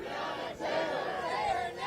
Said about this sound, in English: hear the protesters chanting, "Say her name, Breonna Taylor,"